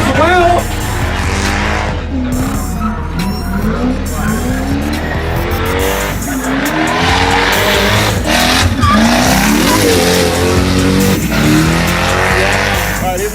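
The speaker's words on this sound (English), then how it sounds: "Not only do they have big wheels, they drift as well." A car drifts at a show, its tires squealing and skidding in long, wavering bursts over a loud engine roar, with crowd noise and voices mixed in.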